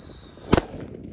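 Happy Power 3 firecracker bursting during a Ramadan firecracker session, one sharp close bang with a slight double crack, then a brief fading tail.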